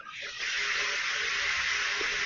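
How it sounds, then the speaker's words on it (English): Water running from a kitchen or bathroom sink tap, a steady, fairly loud hissing rush that starts almost at once and continues without a break. "That sounds like the sink."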